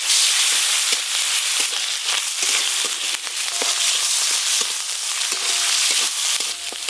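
Tomato, turmeric, ginger-green chilli paste and salt frying in hot oil with asafoetida, a steady loud sizzle with scattered crackles and occasional spoon stirs, no talking.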